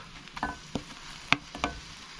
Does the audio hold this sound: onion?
yes